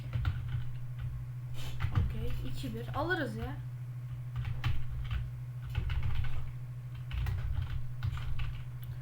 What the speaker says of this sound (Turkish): Klavye sesi birazcık fazla gelebilir.